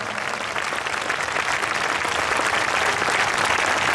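A worship crowd at an evangelistic meeting claps harder and harder. The thick, continuous applause stays loud and even, building slightly toward the end.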